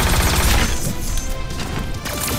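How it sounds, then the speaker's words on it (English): A heavy, booming proton cannon blast in a Marvel video game erupts loudly at the start, then crackles and rumbles away into a noisy, clattering tail. "Here's the big one. Proton cannon."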